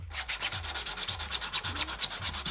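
Sandpaper rubbed by hand in quick, regular back-and-forth strokes, a steady rasping rhythm of about eight strokes per second, close and alone with no talk.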